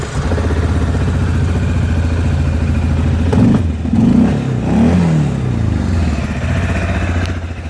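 A 2017 Kymco MXU500i ATV engine running loud and close, with a steady idle and a couple of short throttle revs that rise and fall near the middle.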